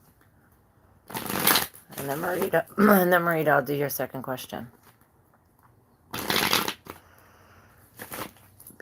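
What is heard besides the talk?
shuffling tarot cards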